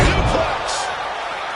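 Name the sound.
suplex slam in the wrestling video game WWE 2K25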